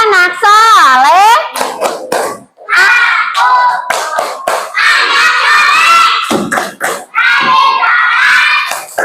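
A group of Indonesian schoolchildren chant "tepuk anak saleh" and clap together in a lively rhythmic pattern during a lesson, loud and close, with shouting voices mixed in.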